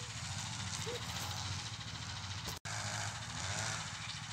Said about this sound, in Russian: Муж завел мотоблок.